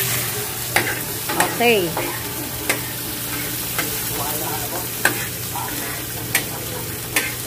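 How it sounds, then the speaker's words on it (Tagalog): Tomatoes sizzle in a frying pan as a utensil stirs them with steady scraping and clinking strokes, and a voice speaks briefly over the cooking. "hanggang sa maluto yung kamatis, haluin mo lang"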